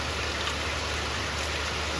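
Steady rain falls over a village, a continuous dense hiss with no breaks and no distinct drops standing out, moderately loud and close, with no voices.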